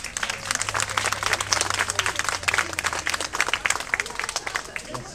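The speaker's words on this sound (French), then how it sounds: "Sous vos applaudissements" Audience applause at a school day of a book fair, dense lively clapping from a sizeable crowd, loud and sustained throughout, with some background voices mixed in.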